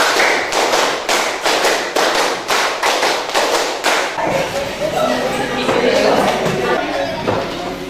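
A class of high school students claps in unison during a concentration game, a steady run of about a dozen crisp, loud group claps lasting four seconds, followed by talking and chatter in the room.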